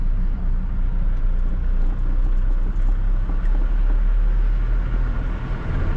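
A 1997 Ford F1000 pickup on 33-inch tyres with a straight exhaust, heard from inside the cab as a dense, steady low engine drone with road rumble that holds loud throughout.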